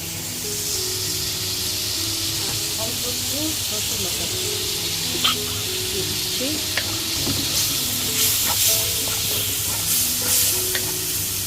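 Prawns fry in a pan with ginger paste, giving a steady close sizzle and hiss with occasional stirring scrapes and small pops throughout.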